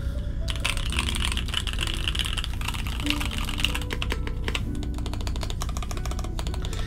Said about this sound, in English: I'll do a little bit of a typing test.